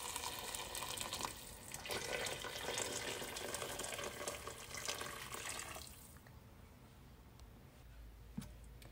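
Hot water runs from a tap into couscous tinted with food colouring, a loud steady gush for about six seconds before it drops to a softer trickle and drips.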